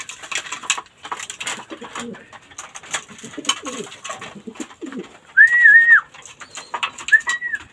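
Racing pigeons coo close by in soft, low, repeated calls, joined by a couple of brief whistle-like tones and faint background sounds.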